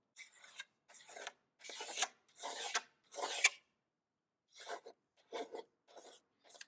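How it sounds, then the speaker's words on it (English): Sanding a yellowed plastic car headlight lens by hand, with a series of about eight short, raspy scraping strokes, close and fairly quiet, separated by brief pauses. "When you start sanding, it'll be apparent because it sands differently than the plastic."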